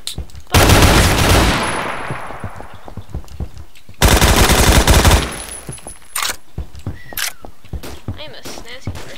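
In Roblox Phantom Forces, a gun fires loud, close, sustained automatic bursts, a long one early and a second after a pause, then scattered single shots and clicks, with speech in between.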